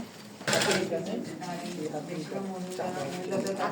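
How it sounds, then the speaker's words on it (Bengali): A sewing machine stitching along both edges of a piece without glue, a rapid mechanical whirring clatter heard close up, with a person talking over it. "এটাতে কিন্তু গাম লাগানো হয় নাই, সরাসরি সেলাই করা হচ্ছে দুই পাশ ধরে।"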